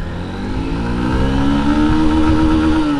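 A Honda Unicorn 160cc motorcycle engine revs up steadily in first gear, its pitch climbing as it accelerates, loud and close.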